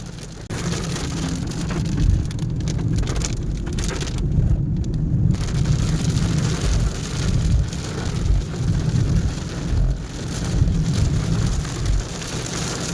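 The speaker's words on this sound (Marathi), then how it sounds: "पाऊस असला जोरात पडायला लागला ना बघा" Heavy rain pounds steadily on a car during a road trip to Ujjain, a dense continuous drumming and hiss on the roof and windshield with no voices.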